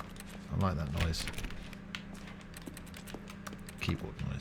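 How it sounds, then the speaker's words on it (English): Keyboard typing in the video game The Stanley Parable 2 comes as a quick series of light, irregular clicks, partly under a voice talking. "Keyboard noise. Even though there's no keyboard on screen, it's fine."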